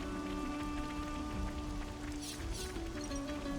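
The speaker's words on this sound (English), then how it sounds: "She's got some rain now in this crazy desert." Steady rain in a desert area of the video game Xenoblade Chronicles 3, a dense continuous patter under a faint tonal music bed, with no talk.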